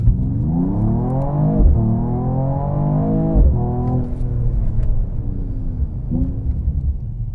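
A Mercedes CLS 53 AMG launching hard from a standstill in auto mode, its engine revving loud and close with rising pitch through several quick upshifts, each gear change briefly dipping before the next climb.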